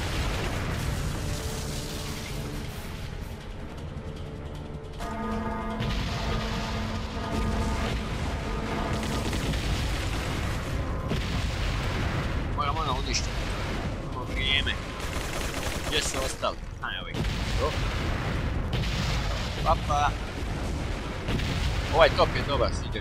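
Cannon fire in Resident Evil 4 Separate Ways booms through the game's combat: repeated heavy blasts and rumbling explosions over a dense action soundscape, with a player talking intermittently underneath.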